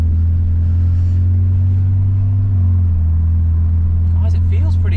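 BMW E90 with a built engine and a swapped 8HP70 automatic gearbox on its first drive under very light throttle: a loud, steady low engine drone inside the cabin with a brief shift in pitch partway, and a voice speaking near the end.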